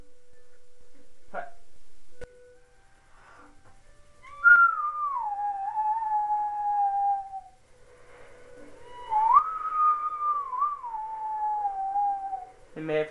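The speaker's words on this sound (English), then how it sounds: "It may have heard me whistle there." Two drawn-out whistled notes from a person, each sliding down and wavering, ring out clearly at moderate distance over a quiet game backdrop of Legend of Zelda: Twilight Princess, with brief clicks in between.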